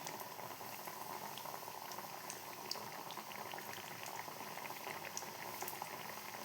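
Potato and bread snacks deep-fry in oil, a soft, even bubbling hiss that stays faint and continuous with no talking.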